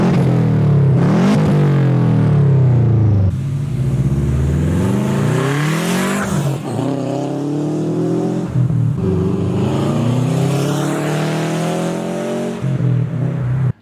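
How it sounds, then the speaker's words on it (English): A 2007 Subaru GD WRX Hawkeye flat-four revving and accelerating through several gears, loud and close, with a burbling, uneven rumble and rising pitch sweeps between shifts. "The Subaru rumble is iconic."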